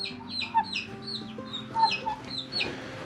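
Small Silkie chickens and chicks clucking and cheeping on a farm, with bird calls repeating across the clip, close and moderately loud, plus a few louder squawks.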